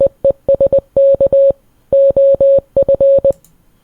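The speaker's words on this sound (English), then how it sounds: "Morse code from a Cephalon, is it?" Clear electronic beeps of long and short tones in Morse code patterns, sent by a Cephalon in the video game Warframe, sounding loud and close in several rhythmic groups with brief pauses and no talking.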